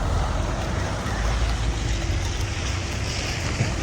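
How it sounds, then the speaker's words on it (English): A large canal boat passes close by with a steady, heavy rumble of its engine, churning water and wind noise, constant throughout. "So we want to see how this boat comes past."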